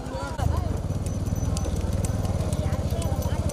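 Small bulls pound along in a kaipura bullock cart race at Thirupunavasal, their rapid rhythmic hoofbeats loud and close, while a commentator talks over the running.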